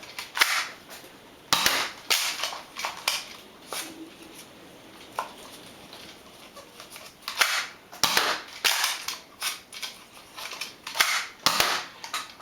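A Nerf Accustrike Falconfire blaster fires foam darts in sharp, close, loud snaps and clacks, several separate shots and priming sounds spread across the stretch, with no talking.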